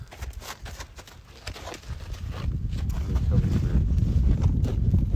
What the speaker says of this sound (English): We want that horse to go through that gate nice and slow.